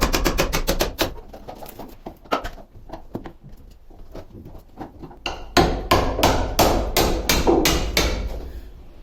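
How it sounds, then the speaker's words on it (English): A hammer strikes old chisels in quick bursts of sharp, ringing blows while stripping a narrowboat's old roof, a pause of lighter taps, then another fast run of loud strikes. "I think it's time for the hammer."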